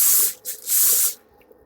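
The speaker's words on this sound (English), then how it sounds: "with cooking spray." Two quick bursts of cooking oil spray hiss close by into an air fryer, the second longer, followed by quiet.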